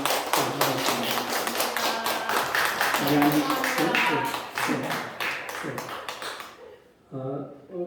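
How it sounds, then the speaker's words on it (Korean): A Sunday church congregation claps to welcome a newcomer: rapid, bright clapping over a tonal background, ending abruptly before a voice resumes speaking. "우리 박수로 환영하겠습니다"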